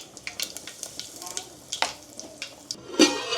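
Cumin and asafoetida sizzling in hot oil with mustard seeds already added, a faint, crackly spitting fry with small pops and stirring, punctuated by a sharper crackle near the end, with a voice speaking softly.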